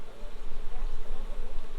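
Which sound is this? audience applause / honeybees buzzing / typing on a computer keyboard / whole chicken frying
honeybees buzzing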